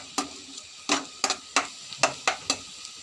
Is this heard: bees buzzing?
no